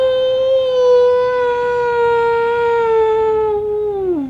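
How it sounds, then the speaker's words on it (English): A single long cartoon-style dog howl, loud and sustained on a steady pitch for about four seconds before sliding downward and fading out. "Howl!"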